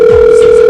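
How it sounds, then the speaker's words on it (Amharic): A telephone gives one brief, steady electronic tone, loud and close, with no other sound around it. "ስልክ እየተደወለ ነው"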